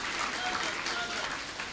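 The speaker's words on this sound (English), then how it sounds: "Let's give it up for the graduate, please. A round of applause." A crowd applauds a graduate at a university congregation ceremony, a dense steady wash of clapping filling the short clip, with a voice faintly underneath.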